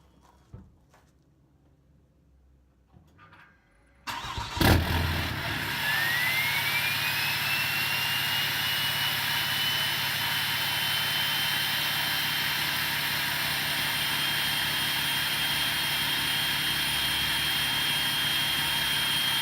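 A 6.7L Cummins diesel truck engine with a DPF delete cranks after a few seconds of near silence, then settles into a loud, steady idle with a constant drone and a thin high whine that rises in pitch.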